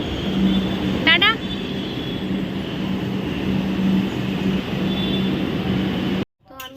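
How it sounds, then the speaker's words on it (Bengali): A metro train arrives at a platform across the tracks with a steady rumbling roar and a low hum. Brief squeals rise once before the sound cuts out abruptly, with faint talk underneath. "ওই পারে মেট্রো চলে এসছে"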